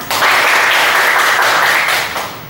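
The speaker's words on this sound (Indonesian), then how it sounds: "Beri aplaus untuk Ananda semua." A classroom of students in a history lesson bursts into loud, dense applause, many hands clapping together close by for a couple of seconds before fading slightly, with no talking.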